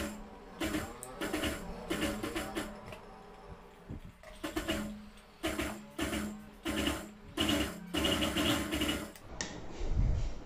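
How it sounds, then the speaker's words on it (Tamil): A sewing machine stitching fabric for a designer patchwork patch, close and fairly quiet, running in short rapid bursts with brief pauses between runs. "இப்போ நான் தைச்சிக்கிறேன்."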